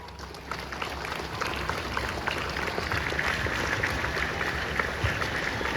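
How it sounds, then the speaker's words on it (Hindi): An audience at a Loyola High School staff event applauds after a lamp-lighting and garlanding ceremony, a steady dense patter of many hands clapping that swells slightly and holds, with no talk over it. "ताली बजनी चाहिए।"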